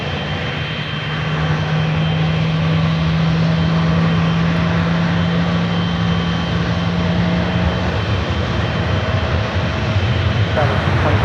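A large airliner powers up for takeoff on the runway at San Francisco International Airport, its engines building into a steady roar with a low droning hum, while radio voices talk over it.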